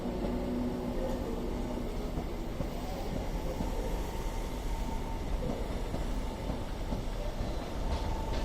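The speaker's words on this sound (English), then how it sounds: "Departing now is the delayed 11:29 northern service to Crewe, no, Manchester Piccadilly from Crewe." Northern train departing Stockport station for Manchester Piccadilly, a continuous broad rumble and hiss of the moving train, steady and moderately loud, with no talking.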